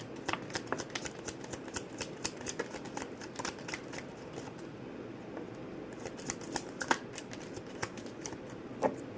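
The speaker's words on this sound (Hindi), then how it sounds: "एक बार और शफल कर लेते हैं।" Tarot cards being shuffled by hand, giving a soft, continuous papery riffle with quick flicking clicks throughout, fairly quiet and close, with no talking.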